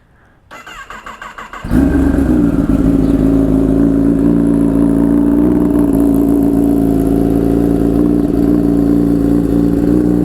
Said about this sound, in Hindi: तो ये इस बाइक का कोल्ड स्टार्ट है